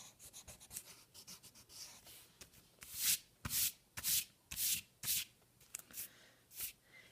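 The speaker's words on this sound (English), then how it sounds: "So I'm going to erase that one line there." An eraser rubs over pencil lines on a drawing for an art project, making a series of close, rhythmic scrubbing strokes that grow louder and more distinct midway, with no voices.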